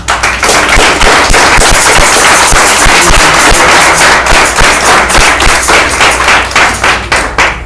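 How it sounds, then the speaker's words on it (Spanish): Loud, dense applause from a church congregation, sustained and close, a steady wash of many hands clapping with sharp individual claps throughout and no voices. "Dale un aplauso a Dios, hermano."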